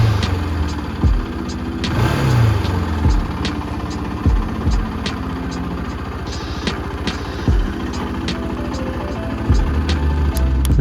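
Honda NS motorcycle with a freshly overhauled and cleaned CV carburetor, its engine running with an uneven idle and a few light blips of throttle, heard up close and steady throughout.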